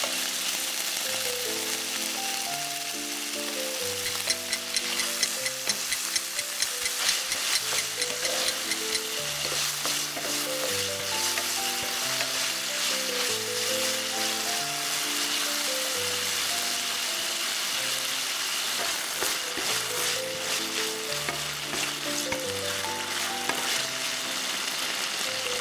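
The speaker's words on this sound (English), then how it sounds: "In a hot pan, add the pork and sear for about 5 minutes until it turns a golden," Pork sears in a hot pan with a loud, steady sizzle and crackle, broken by frequent stirring scrapes, continuous for the whole stretch with no talking.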